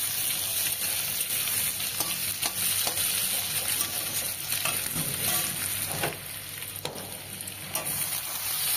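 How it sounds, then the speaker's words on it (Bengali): Chopped potatoes, onion and four or five green chillies fry and sizzle steadily in a pan for a Bengali fish curry, with occasional stirring scrapes and no talking. "একটু বড় বড় করে কুচি করে ওই আলুর সঙ্গে একটু ভেজে নেব।"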